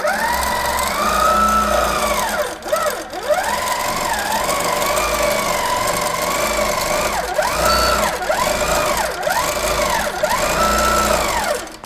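A Simply Sixteen quilting sewing machine stitches steadily, its motor whirring loud and close with rising and falling pitch sweeps as the speed changes, briefly dipping near the three-second mark.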